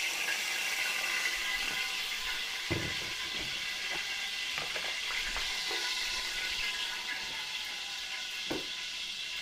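Cooking oil sizzles in a pan while menudo is being made, a steady dense frying hiss throughout with a few soft clicks and stirring taps, close and fairly loud with no talking.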